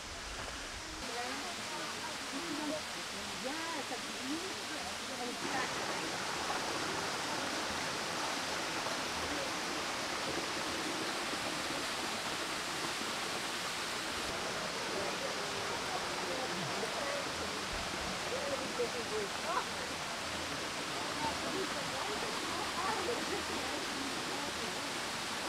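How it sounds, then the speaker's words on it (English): A waterfall in Shenandoah National Park roars as a steady, dense rush of falling water heard from nearby, filling the whole stretch evenly, with a voice speaking faintly beneath it. "I don't know if you guys can pick this up, but the depth of that waterfall"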